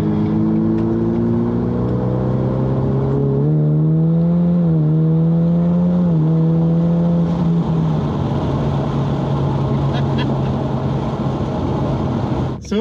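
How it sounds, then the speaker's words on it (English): A car engine runs while driving with a gallon of Marvel Mystery Oil added to the gas, a loud steady hum whose pitch climbs and settles as it accelerates and cruises, with no talking. "So far, so good. The car's running pretty good."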